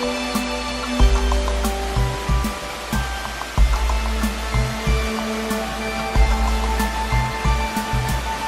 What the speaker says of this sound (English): There is a beautiful waterfall that's nice and refreshing